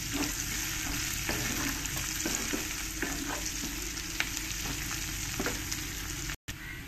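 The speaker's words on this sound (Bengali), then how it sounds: "পেঁয়াজটা আমি ভালো করে একটু লাল লাল করেই ভেজে নিয়েছি" Onions fry with salt in a pan, browning to a reddish color, giving a loud continuous sizzle with intermittent scraping taps of stirring and a brief drop-out near the end.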